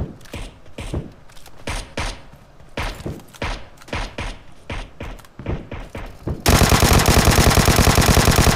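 Vector submachine gun firing in PUBG Mobile: scattered loud single shots and short bursts, then a dense, sustained rapid-fire stream of gunfire filling the final seconds.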